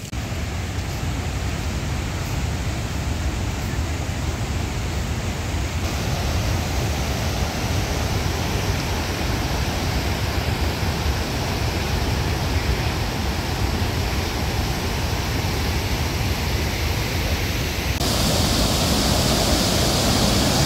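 Satdhara waterfall in Chhattisgarh roars with rushing water, a loud, continuous broadband wash that holds steady throughout, with no voices.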